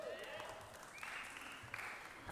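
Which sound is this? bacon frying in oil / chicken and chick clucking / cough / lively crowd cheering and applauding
lively crowd cheering and applauding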